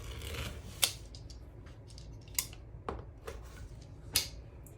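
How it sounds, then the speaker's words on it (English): Rotary cutter slicing through decorative wreath mesh, a few short crisp cutting and rustling strokes at close range in a quiet room. "You have to use a rotary cutter."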